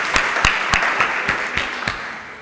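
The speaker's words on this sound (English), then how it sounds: "a round of applause for Mike in coming to join us today" Audience applause for a guest speaker at a lunchtime presentation, heard as sustained clapping from a room of people with a few sharper individual claps standing out, tapering slightly toward the end.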